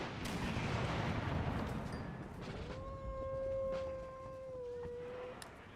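Artillery firing in the strategy game Empire Total War with the Imperial Destroyer mod, Prussian forces: a dull, fairly faint broadband boom that rolls off over two seconds, followed by a thin sustained whistling tone that wavers and fades.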